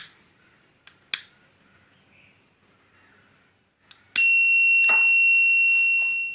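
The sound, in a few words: buzzer beeping on fire alert from gas detection robot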